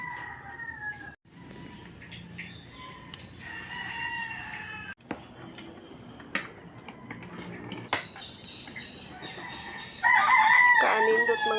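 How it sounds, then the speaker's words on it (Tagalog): Chickens and roosters crow and cluck in the countryside, several loud crows rising near the end, with clinking dishes and cutlery from a breakfast table in between. "paminawon ang mga sound sa birds, sa manok"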